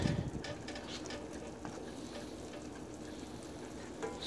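Shish kabob meat fries over high heat in a pan for fried rice, giving off a dense, steady sizzle with a few faint scrapes. The sizzle is fairly quiet and close, and there is no talking.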